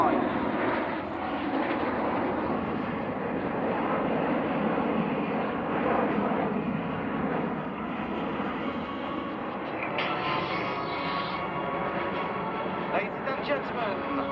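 A Breitling display team jet roars past at an airshow, a loud, steady broadband engine wash that holds throughout with a slight swell mid-pass, with a voice speaking over it.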